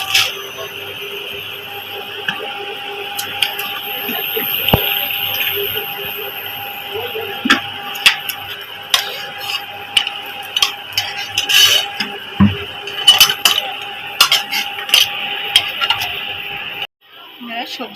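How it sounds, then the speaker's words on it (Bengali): Lentil dumplings (bori) frying in hot oil in a home kitchen, a steady sizzle punctuated by frequent metal clinks of a spatula against the pan, with a person talking over it. "তেল গরম হয়ে গেছে, এবার বড়িগুলো ভেজে নেব।"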